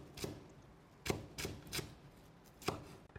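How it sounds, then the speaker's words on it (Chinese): A knife chopping scallions on a cutting board, five or six crisp separate strikes at an uneven pace, close and clear with quiet gaps between them. "几根小葱切成葱花"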